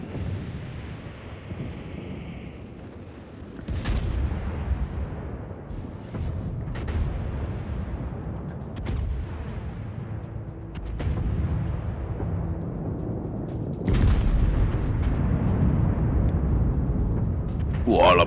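Heavy booming battleship cannon fire in the naval video game World of Warships, several deep blasts over a rumbling background, with people talking throughout.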